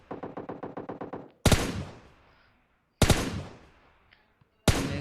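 Gunfire in a battle royale video game: a rapid burst of automatic shots, then three loud single booming shots spaced a second or more apart, each trailing off with a ringing decay, with no talk.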